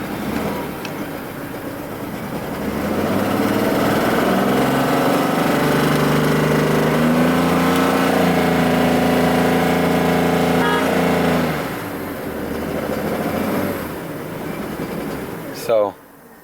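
A Mercedes-Benz S600 V12 saloon engine runs close by. Revs climb slowly and hold for several seconds, then drop back to a rough, droning idle, as the engine struggles to accelerate.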